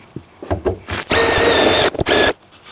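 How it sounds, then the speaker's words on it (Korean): Power drill widening a hole in the metal body of a Renault Master van under conversion, with a few short bursts and then two loud sustained runs of whining, grinding bit against sheet steel, close by. "끝선에 닿을 때까지 스택 길이로 구멍 조금만 넓혀 줄게요."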